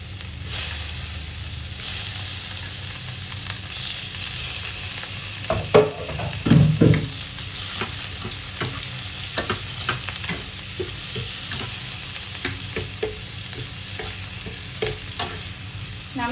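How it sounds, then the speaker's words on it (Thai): Shrimp stir-frying in a pan with garlic gives a steady sizzle broken by louder scraping stir strokes, the busiest burst around the middle, close up and with no talk. "ขั้นตอนต่อมาเราใส่กุ้งเลยค่ะ"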